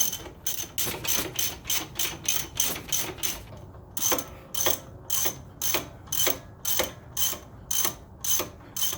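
A ratchet wrench clicks in quick, regular bursts of loud ratcheting, close by, while front brake bolts on an Infiniti JX35/QX60 are tightened to 62 foot-pounds. The bursts pause briefly midway and then resume.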